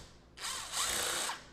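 A powered driver whirs in two short bursts, backing Phillips-head screws out of the back plate of a Lectron V-Box 48 amp electric car charger. The motor whine is close and steady, with no talk.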